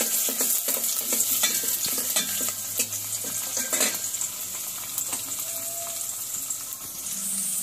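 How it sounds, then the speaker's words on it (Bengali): Onion frying in a pan with cinnamon and cardamom, a steady loud sizzle throughout with scraping stir strokes and faint clinks of a utensil, no talking. "দিয়ে একটু ভেজে নিচ্ছি।"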